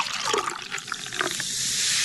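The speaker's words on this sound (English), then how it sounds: "I'll pour you some orangeade." Orangeade is poured into a glass at close range, a splashing liquid stream that gurgles and then settles into a steady hiss.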